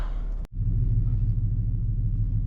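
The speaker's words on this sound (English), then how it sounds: "this Hellcat sounds good, I ain't gonna lie" A Dodge Hellcat's deep, steady engine rumble idles close by, with a brief sharp pop near the start before the low growl settles back in.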